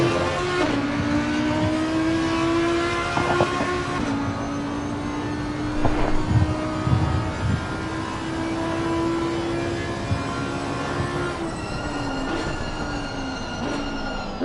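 A GT4 race car engine drones steadily at Laguna Seca in Assetto Corsa Competizione. It holds a steady whining tone for about ten seconds before the pitch shifts, with a few faint thuds underneath and no talking.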